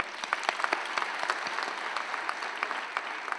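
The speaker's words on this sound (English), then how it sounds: "I think he needs a great applause from all of us." An audience applauds at a 150th birth anniversary celebration of Swami Vivekananda, a dense patter of many hands clapping at moderate, fairly even loudness throughout.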